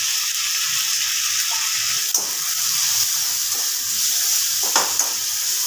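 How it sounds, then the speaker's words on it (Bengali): Turmeric, chilli powder and salt fry and are stirred with no water for a dry potato curry, giving a constant close sizzle broken by a few sharp stirring clinks, with no voices. "এবার মশলাটাকে খুব ভালোভাবে কষিয়ে নেব"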